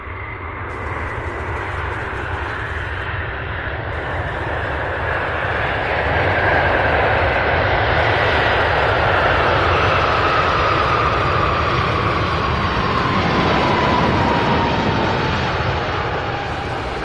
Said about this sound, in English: Brady says, Sam, my dad is wondering why there's a FedEx plane there.